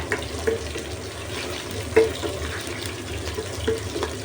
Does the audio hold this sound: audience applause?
no